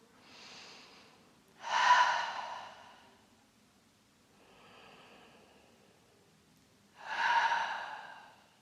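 Slow, deep breaths during a yin yoga session, two long audible inhales and exhales through the nose and mouth, close and soft, the exhales louder, with no speech.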